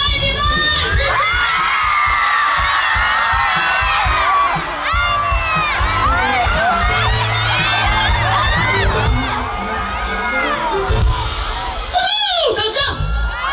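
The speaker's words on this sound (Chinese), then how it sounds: "掌声。" A concert audience roars with sustained, loud cheering and high-pitched screams, filling the space continuously before a brief lull near the end.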